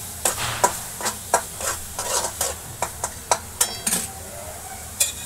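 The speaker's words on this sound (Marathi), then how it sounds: "आता याच्यामध्ये चिकन आपण टाकूया वाफवून घेतलेलं." Steamed chicken is stir-fried dry in a kadhai, with sizzling under rhythmic clanks and scrapes of a spoon against the pan, close up with no talk.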